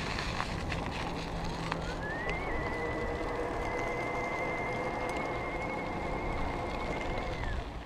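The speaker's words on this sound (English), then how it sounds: "Now you can hear the motor a little bit more because I'm spinning it super fast." An Optibike Pioneer Allroad electric bike motor spins at high RPM in a low climbing gear, giving a steady high-pitched whine that rises and then holds alongside broadband wind and road noise, with no talking.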